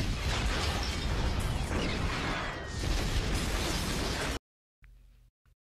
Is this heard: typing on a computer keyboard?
no